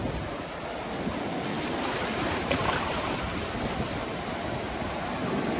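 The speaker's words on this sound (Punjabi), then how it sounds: "ਦਰਿਆ ਕੁਨਾਰ 'ਤੇ ਅਸੀਂ ਰੁਕੇ ਹਾਂ" River water flows along a riverbank in a constant broad rushing wash, steady and moderately loud with no voices over it.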